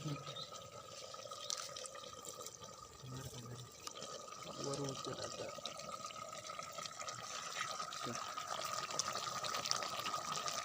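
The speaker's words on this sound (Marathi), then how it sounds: "आपल्या चिकनला मस्त उकळे आले आवाज येतोय मस्त" Quiet, steady bubbling of chicken curry simmering in a pot outdoors by a river, close by, with soft pops and gurgles throughout.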